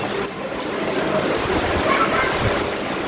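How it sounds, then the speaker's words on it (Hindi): Heavy rain pours down in a dense, steady roar, loud and continuous throughout with no pauses. "कैसे कितनी तेज बारिश।"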